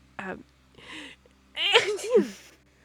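A sharp sneeze breaks out, followed by a brief vocal sound and then a second, drawn-out sneeze, all close and fairly loud.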